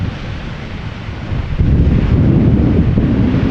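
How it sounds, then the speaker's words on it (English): Outdoor wind at Amsterdam Schiphol Airport buffeting the microphone, a loud, low rumbling roar that strengthens midway and stays heavy to the end. "I can nicely block the wind with my head, standing like this."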